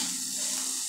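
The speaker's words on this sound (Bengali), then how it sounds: "তো আমার ভাজা প্রায় কমপ্লিট হয়ে গেছে, সামান্য ভাজা করলেই হয়ে যাবে" Sliced bitter gourd and pumpkin fry over a high flame in a pan, giving a steady, close hiss of sizzling oil that stays even throughout, with no voices.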